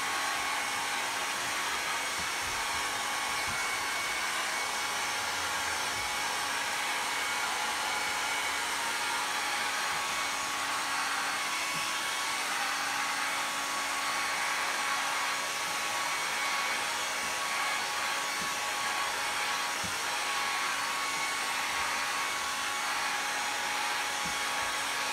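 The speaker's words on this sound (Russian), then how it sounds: "Сейчас фен чуть-чуть прогреется." Steady, loud whooshing roar of a heat gun warming up for shaping window tint film on an Audi 80, a constant blowing hiss with no pauses for about 25 seconds and no talk.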